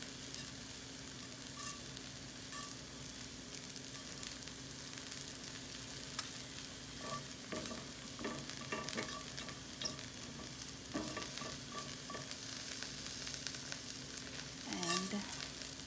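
Cumin seeds crackle and sizzle in hot oil, a faint, continuous frying hiss with scattered small pops and a few soft stirring clinks, no voices.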